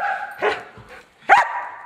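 A dog barks twice nearby, short sharp yips separated by a brief pause.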